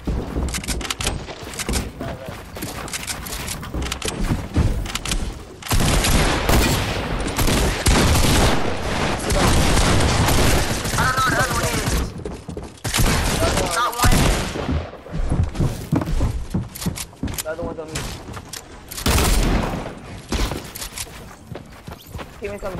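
Dense, loud gunfire from a PS4 battle-royale duos match, sustained bursts and explosions nearly throughout with brief lulls, occasional footsteps and a voice talking over the action.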